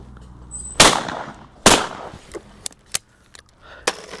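A shotgun fires at clay targets in an outdoor shooting session, several sharp, loud blasts at irregular intervals, two big reports followed by smaller cracks, with no talk over them.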